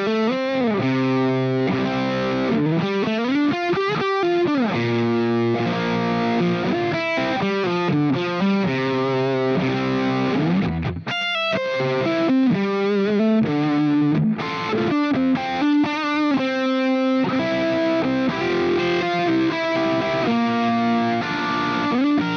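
Heavily distorted electric guitar plays a slow, emotional ballad line over a natural minor Aeolian progression, with sustained bent notes and chords, loud and continuous with no talking.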